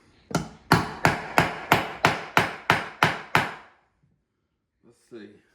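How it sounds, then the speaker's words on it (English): A small rivet on an old vehicle is hammered to mushroom it, with nine evenly spaced, sharp metallic blows at a steady rhythm, then a pause and a couple of faint softer knocks. "what we're doing is we're just mushrooming that little rivet out"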